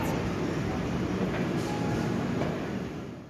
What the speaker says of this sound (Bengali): ঘড়িতে বাজে 10টা 15 আর ট্রেন আমাদের গড়াতে শুরু করেছে।